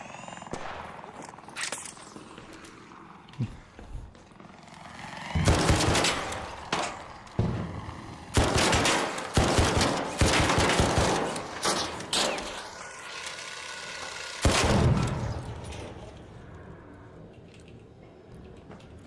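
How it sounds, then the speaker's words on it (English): Video game gunfire comes in bursts of rapid shots and single cracks, loud and close, separated by quieter stretches, with no speech over it. "This gun is nowhere near as strong as I thought it would be."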